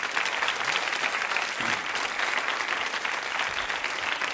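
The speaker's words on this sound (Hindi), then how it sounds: "इस जानकारी के लिए भी बजा सकते हैं तालियां आप।" Audience members at a women's quiz show clap together in a thick, continuous burst of applause that stays steady and fairly loud from start to finish, with no speech.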